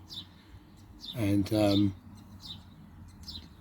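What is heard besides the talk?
birds chirping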